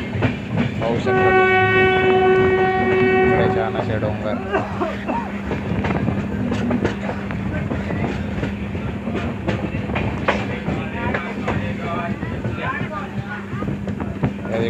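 Diva Sawantvadi Express train on the Konkan Railway, heard from on board: a steady rolling rumble with clattering wheels, a long horn blast near the start, and someone talking over the noise throughout.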